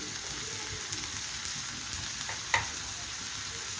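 Ginger and garlic paste frying in a pan with a little water: a steady, even sizzle close by, broken by a few faint clicks and one brief sharper tap, with no talking.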